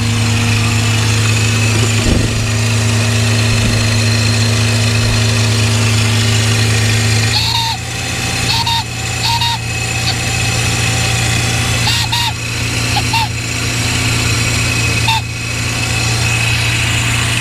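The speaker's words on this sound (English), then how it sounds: "Let's see what happens when the engine is running." A Mercedes S600 W140 V12 idles steadily on the car with no idle correction, a low continuous hum that shifts partway through as faint clicks and brief whirs from the throttle actuators come and go.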